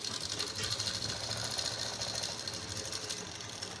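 A sewing machine runs steadily, stitching a seam on a pair of underwear with a fast, even mechanical whir and rattle that continues without a break.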